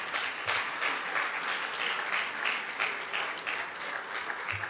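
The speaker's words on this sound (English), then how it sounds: "let's welcome to the podium or the stage, with a round of applause" An audience claps in continuous, loud applause to welcome a speaker to the stage at a live event; the clapping is dense and steady throughout, with no talking.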